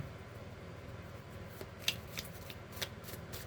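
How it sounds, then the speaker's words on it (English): Soft riffling of heart-shaped tarot cards being shuffled, with a few light slaps and flicks over faint background hiss. "It's hard to shuffle these heart-shaped cards."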